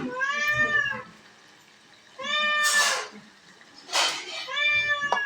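Cats meowing nearby while waiting for biryani to cook, several drawn-out, loud meows in a row with short pauses between them.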